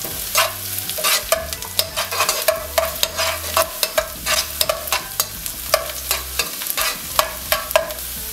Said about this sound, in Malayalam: ആ വെളിച്ചെണ്ണ ഒന്ന് ചൂടായതിനു ശേഷം അരിഞ്ഞു വെച്ച ചെറുള്ളി ഇടുക. ലൈറ്റ് ബ്രൗൺ ആയിട്ട് ഈ ചുവന്ന ഉള്ളി ഒന്ന് മൂപ്പിക്കണം.